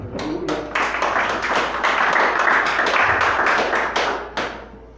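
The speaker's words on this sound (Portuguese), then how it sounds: "dê uma linda salva de palmas à palavra de Deus" Church congregation applauding after a Bible reading, a burst of many hands clapping with distinct sharp claps at the start and end, loud and dense in the middle before tapering off.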